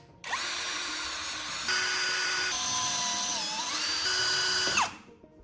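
Power drill tapping M4 threaded holes: a steady, loud high-pitched motor whine that shifts pitch as the load changes, running for about five seconds with no talking.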